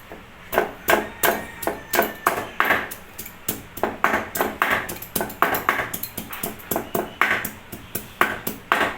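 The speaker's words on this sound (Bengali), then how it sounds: "এখন আমি আদাটা বেটে নেব, আদাটা বেটে নেব মিহি করে।" Fresh ginger is ground finely on a traditional grinding stone in a home kitchen, a steady run of sharp rhythmic knocks and scrapes repeating roughly twice a second, close and prominent.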